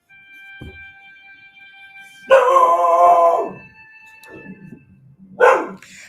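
A dog howls in a long, loud, tonal wail lasting about a second, after a brief low thump and before a shorter rising cry near the end, with no talking.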